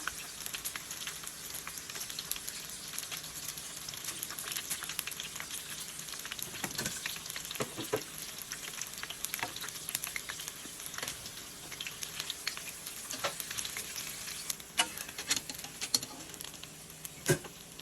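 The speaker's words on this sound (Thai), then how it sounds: "ทอดให้เหลืองกรอบเลยนะคะ" Sun-dried fish fries in oil until golden and crisp, giving a continuous close crackling sizzle scattered with sharper pops and occasional stirring clatter.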